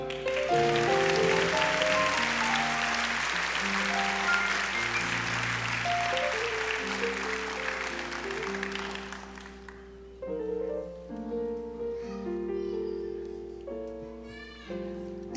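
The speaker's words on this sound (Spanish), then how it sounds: "Un aplauso." Congregation in a church service breaks into sustained applause for about ten seconds, loud and dense, with organ or keyboard chords playing underneath, then the clapping fades while the music continues.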